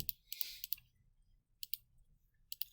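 Keys on a graphing calculator being pressed while an equation is entered, a few quick sharp clicks in small clusters with quiet pauses between.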